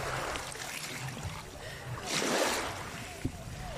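Strong sea waves wash and rush steadily at a beach, with one louder surge swelling and breaking midway, and a voice talking over the roar.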